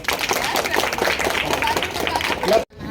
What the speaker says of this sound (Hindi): सब लोग ताली बजाइए।